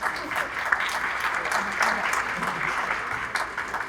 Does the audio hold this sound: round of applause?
yes